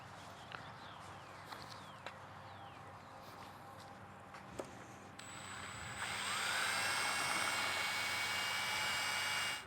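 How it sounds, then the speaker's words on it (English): An electric drill spins a mixing paddle through a cup of paint in a shop. It starts after a few light knocks and clicks, then runs as a loud, steady whine. "This little mixing paddle right here, put it in a drill, you spin it around,"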